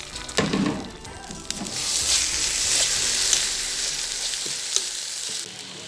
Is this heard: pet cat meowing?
no